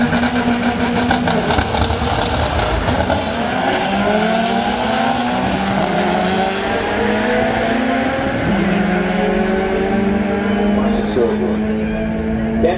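Honda CRX engine roaring at an import drag race, loud and sustained with rising and falling gear-change pitches, surrounded by other race engines and tire noise under crowd and announcer chatter.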